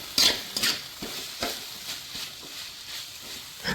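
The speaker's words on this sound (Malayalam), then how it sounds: "നല്ല രീതിയിൽ ഇളക്കി കൊടുക്കുക" Onions and curry leaves are stirred in a pan for a Kerala-style chicken curry, with repeated spatula scrapes and knocks over a light frying sizzle, the first few strokes loudest.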